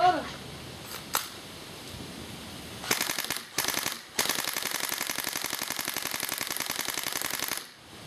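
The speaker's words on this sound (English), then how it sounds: "I'll go full auto just to unload." A battery-powered airsoft gun fires in full auto, first short bursts, then a long rapid stream of close, loud shots that cuts off near the end.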